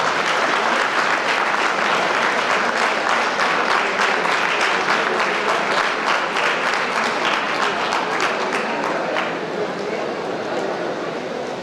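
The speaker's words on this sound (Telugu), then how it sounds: "గట్టిగా క్లాప్స్ కొట్టండి పోలీస్ డిపార్ట్మెంట్" Loud, sustained audience applause fills the hall at a city traffic awareness seminar, honoring the police department, with dense clapping throughout that thins slightly near the end.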